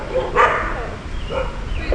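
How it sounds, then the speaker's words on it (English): A dog barks during a cycling trip in Colombia, a few close, sharp yips and barks spaced unevenly over a couple of seconds, with no speech. "Oh, doggy."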